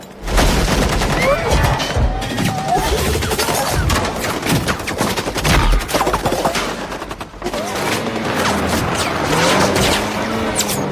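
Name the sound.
barrage of gunfire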